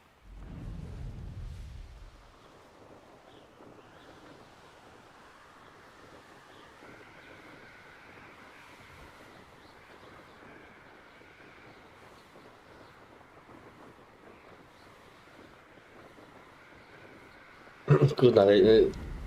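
Steady whooshing wind roars throughout while flying in the Hogwarts Legacy game, a continuous broad rushing tone. Louder bursts of sound come at the very beginning and near the end.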